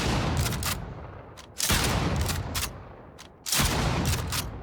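Three heavy shotgun blasts from a first-person shooter game fire at a slow, uneven pace, each a loud booming crack with a short decaying tail.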